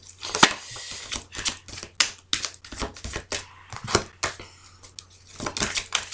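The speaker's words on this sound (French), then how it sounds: "je vais bien quand même mélanger les cartes" A deck of cards shuffled by hand for a horoscope reading: a quick irregular series of crisp slaps and riffles, close and clear, with brief gaps between them and no talk.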